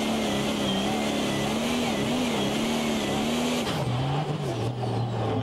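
Pulling tractor at a tractor pulling event in Brande, its engine roaring loud and steady with a sustained drone that drops in pitch near the end as the run finishes, close and continuous.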